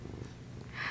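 A house cat purring up close at low volume, a soft continuous rumble with faint breathy texture over quiet room noise.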